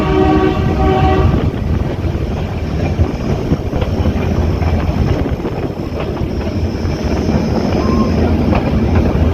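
A passenger train runs between Veraval and Junagadh, heard as a loud, steady rumble of rolling stock with heavy wind buffeting, and a horn tone sounds briefly at the start.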